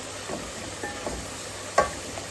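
Hilsa fish in mustard sauce cooks on a stove over low heat. Quiet simmering is broken by a few soft stirring scrapes and one sharper clink close by.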